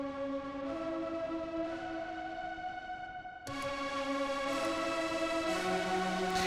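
A cinematic synth string pad built in Serum for a melodic techno drop holds sustained harmonic chords, changing notes midway and swelling brighter and fuller in the second half, alone without voices.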